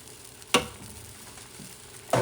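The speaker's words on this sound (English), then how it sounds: "I'm going to start adding the rice" Rice poured into a hot pan of pork ribs with saffron, giving a close, quiet sizzle broken by two sharp stirring or dropping sounds, one near the start and one at the end.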